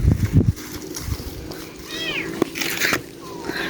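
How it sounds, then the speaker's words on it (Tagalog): A cat meows a few times, high rising and falling calls at close range, with some handling noise and brief thumps at the start and faint background sounds between the cries. "Kung gusto nyo po ng pusa, punta lang po kayo dito."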